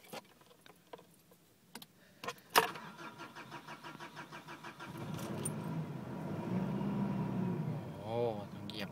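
A car engine starts with some struggle: a few clicks and a jangle, then the motor catches and runs with a rough, rising rumble; someone talks quietly over it.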